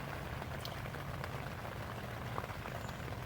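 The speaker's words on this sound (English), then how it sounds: "We've got a rainstorm coming through" Heavy rain drums steadily on a USMC two-man combat tent during a passing rainstorm, a dense, continuous patter with no voices over it.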